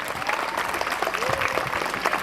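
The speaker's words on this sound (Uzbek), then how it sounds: "qarsak chop qo'ylar" A crowd of wedding guests claps in a dense, continuous burst of applause, fairly close and loud, with voices faintly mixed in.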